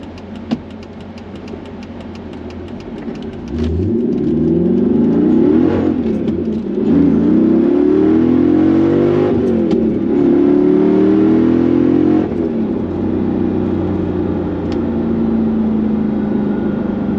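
A Mercedes C55 AMG with a fresh engine tune revs while driving, its V8-style drone climbing and falling through gear changes, loud and close from inside the cabin, no one speaking.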